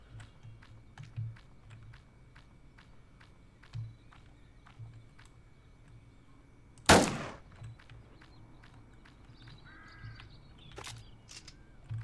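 A sharp, loud gunshot from Roblox Island Royale cracks once near the middle, with a few fainter shots or clicks scattered through an otherwise quiet game ambience with a low hum.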